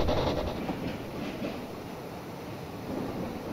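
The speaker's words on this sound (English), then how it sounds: "Watch the train go here." Steam locomotive train running along the track, a continuous close rumble and rattle of rolling stock with a faint high whine, steady in loudness throughout.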